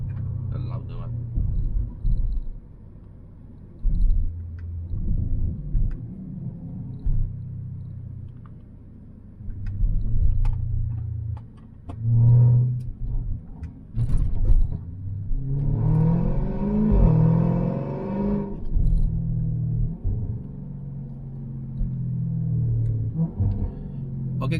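A Range Rover SVR fitted with a loud FIE full exhaust system, engine rumbling and revving in bursts with a rising rev near the middle, while people talk over it intermittently.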